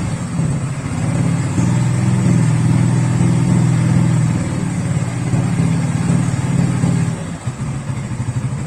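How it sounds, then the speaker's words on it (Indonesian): A motorcycle engine, with an HID 35-watt lamp load on the electrical system, rises in RPM, a loud close mid-pitched drone that climbs and holds steady with slight fluctuations throughout. "saya tambahkan RPM-nya, dia naik terus teman-teman ya."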